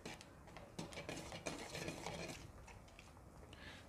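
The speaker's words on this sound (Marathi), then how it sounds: "बटाटा एकदम खाली तळाला चिटकतो, त्यामुळे एकसारखा हलवत राहायचं आहे." A spoon scrapes and stirs a thick sabudana and potato batter in a heavy thick-bottomed pot, giving faint, close, irregular clinks and scraping strokes with no talking.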